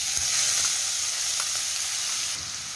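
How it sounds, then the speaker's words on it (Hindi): Chopped onion fries in hot oil with cumin, mustard seeds and a pinch of asafoetida for dhaba-style paneer masala, giving a loud, steady sizzle close up, with faint stirring clicks and no talking. "अब इसमें फाइनली चॉप अनियन डाल देते हैं"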